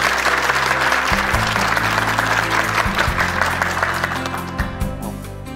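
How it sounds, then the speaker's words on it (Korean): Studio audience on a Korean morning talk show breaks into sustained applause welcoming a guest lecturer, a dense steady clapping that holds loud throughout and thins slightly toward the end, with low music tones running beneath. "박수 박수로 청해 청해 듣겠습니다."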